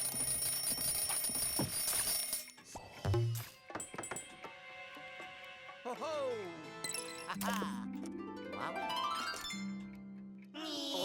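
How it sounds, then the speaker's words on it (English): An alarm clock rings in the Luigi's Mansion 2 HD video game, with bright, repeating electronic chimes and tones layered over busy, shifting game music and effects. "set the time to 9 to trigger an alarm which will wake up the sleeping greenie"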